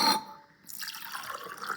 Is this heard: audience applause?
no